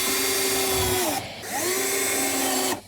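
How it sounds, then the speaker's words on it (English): A power drill or driver screws screws into a car interior part: a loud whining motor run of about a second, a brief pause, then a second longer run that stops abruptly. "If I just start screwing in,"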